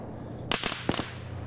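Two sharp distant gunshot cracks in the Arma 3 video game, spaced about half a second apart, each with a short echoing tail over a quiet background.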